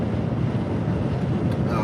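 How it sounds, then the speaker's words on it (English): Strong wind buffets the microphone during a Rivian R1T road trip, a loud, continuous low roar and rumble with no letup over the short stretch. "Getting hammered with wind here."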